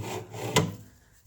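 A wooden drawer for a lathe stand sliding along its rails, a soft rubbing slide ending in one brief knock, quiet and close.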